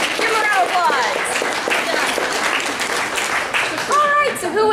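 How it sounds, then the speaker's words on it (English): An anime convention audience at an ozashiki panel breaks into loud sustained applause and clapping, with cheering voices and a host's speech mixed over the crowd throughout. "Give her a round of applause."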